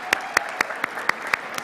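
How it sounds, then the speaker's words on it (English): Sparse, evenly spaced handclaps at an alumni achievement awards ceremony, about seven sharp claps in under two seconds over a quiet room hum, fairly close and moderately loud. "One more round of applause for Sabrina and Andrew"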